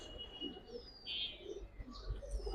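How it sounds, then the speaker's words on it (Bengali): Giribaz high flyer pigeons coo softly and faintly, with low murmuring calls and a few thin chirps over a quiet background. "নটটা বেশি সারার আগে ডাকে। ডাক শুরু করছে।"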